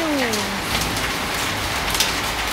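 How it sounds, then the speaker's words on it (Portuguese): Hailstones pelting down during a hailstorm in Ribeirão Preto, Brazil, making a dense, steady patter with scattered sharper hits on surfaces and a roof, continuous and fairly close throughout. "Chuva de pedrinha assim, eu não esperava mesmo."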